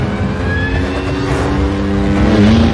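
A motorcycle engine at steady high speed during a stunt ride, droning loud and continuous with a slowly rising pitch across the whole stretch, no talk over it.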